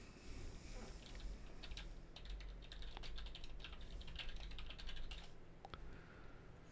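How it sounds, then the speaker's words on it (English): Rapid typing on a computer keyboard during a World of Warcraft: The Burning Crusade live stream, with dense clicky keystrokes in quick irregular bursts close to the microphone over a low hum. "Listen to those epic type skills. Yeah, I do have some pretty good typing skills."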